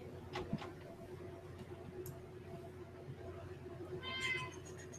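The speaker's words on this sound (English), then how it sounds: "I hear a cat. And it's a fat cat here." Fat house cat meowing once near the end, a short, faint cry over a quiet room hum, after a few soft clicks.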